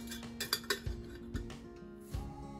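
Camping cookware and tableware for a motorcycle camping tour clink and clatter together as they are packed into a pannier case, a quick series of sharp metallic knocks and rattles, close and moderately loud.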